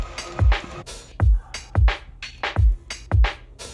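Halftime drum beat with a filter on it, deep kick thumps and sharp snare cracks alternating in a slow, swung pattern, punchy and close with no talking.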